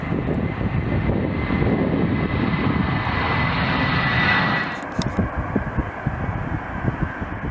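An E-3 Sentry aircraft doing a touch-and-go landing on a runway, a loud sustained jet roar that swells, then drops off sharply with rumbling wheel and runway noise afterward, no talk.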